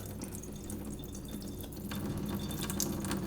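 Rinse water drains off soaked rice in a kitchen, a steady close trickle with scattered drips that swells slightly toward the end, no voices.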